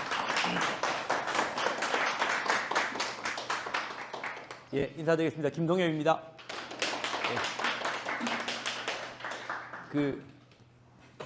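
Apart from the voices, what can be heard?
audience applause welcoming the professor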